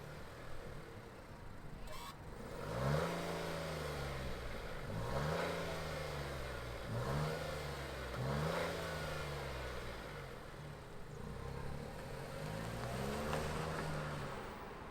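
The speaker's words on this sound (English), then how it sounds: "let's fire up this 3-banger turbo and hear what the VC, the variable compression, sounds like" A 2022 Nissan Rogue Platinum AWD with a three-cylinder variable compression turbo engine, idling steadily and revved several times in a row. Each rev rises and falls smoothly, close and alone with no talking.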